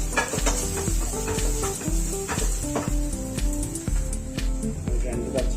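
Masala and tomatoes for a beef curry sizzle steadily in a pan while being sautéed and stirred, with clinks of a utensil against the pot and a voice talking over the cooking.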